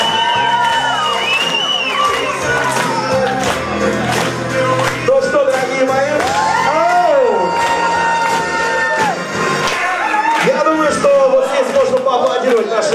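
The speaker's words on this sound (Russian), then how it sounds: "Нужны еще аплодисменты, ребятки." Wedding guests cheer, whoop and shout in a loud, continuous crowd roar, with voices rising and overlapping throughout and applause woven into the noise.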